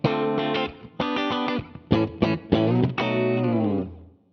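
An electric guitar on its bridge pickup plays through a True North Tweed Drive pedal: a loud, slightly gritty amp tone rings out in a series of strummed chords and short choppy stabs, ending on a sustained chord that fades, with no voices.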